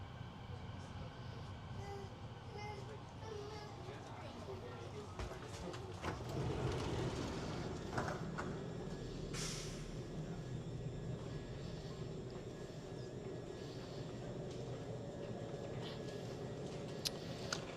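A Vancouver SkyTrain rumbles into Yaletown Roundhouse Station, a steady loud rolling roar heard from inside the car, with a few squeals and clanks, while people talk nearby.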